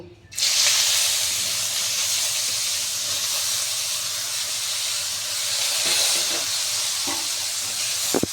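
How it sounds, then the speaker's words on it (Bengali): Pieces of brinjal hit hot oil in a pan, setting off a loud, continuous hissing sizzle that holds steady for several seconds, with a few faint clinks near the end. "এখন আমি ওই তেলটার মধ্যে বেগুনটা দিয়ে দেব।"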